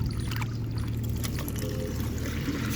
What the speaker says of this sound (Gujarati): તો ચાલો આપણે ફટાફટ પાણી ભરી લઈએ